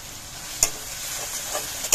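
Spices sauté in a pan with a soft, steady sizzle, punctuated by two or three sharp clicks of a spoon against the pan; no one speaks.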